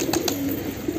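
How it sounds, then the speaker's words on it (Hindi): A black wild pigeon gives a low rolling coo close by, faint and steady, with a couple of brief sharper sounds in the background and no speech. "ये ब्लैक जंगली कबूतर निकला बाहर।"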